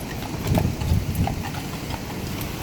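Horse hooves clip-clop in a steady, uneven rhythm, fairly close, with a constant background rumble and no voices.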